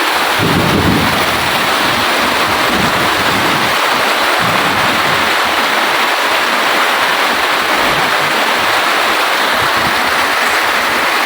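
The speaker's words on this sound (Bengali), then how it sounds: "আকাশে বিদ্যুৎ চমকাচ্ছে আপনাদের ঘুরে ঘুরে আমি দেখাচ্ছি" A fierce thunderstorm in Ataikula, Pabna, with torrential rain roaring loudly and without a break, low rumbles of thunder rising beneath the downpour; no one speaks.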